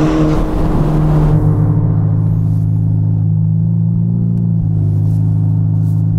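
A Ferrari Portofino M fitted with a Novitec exhaust drones loudly and close, its engine note holding steady low tones that step up and shift as the revs change, with no talk over it.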